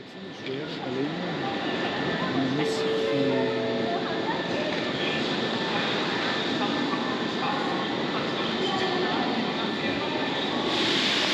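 A train arrives at a station in Osaka, its wheels and motors giving a steady loud rumble with brief squealing tones early on, while people talk over it.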